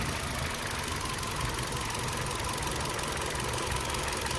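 A Hyundai Accent 1.4 engine with a misfire runs steadily after being restarted, a loud, continuous rough idle with a dense, knocking rumble and no pauses.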